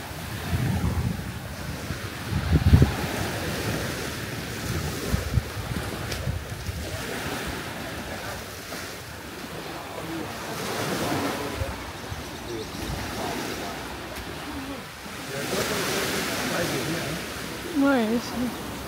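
Sea waves wash onto a beach in Thailand, a steady surf wash mixed with wind buffeting the microphone, while people talk over it throughout.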